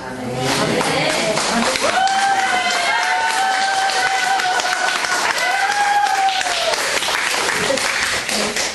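Steady, dense applause from a church congregation fills the whole stretch, with a voice speaking over the clapping in the middle.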